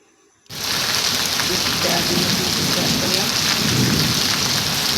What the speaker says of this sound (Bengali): মুষলধারে বৃষ্টি এসে গেল।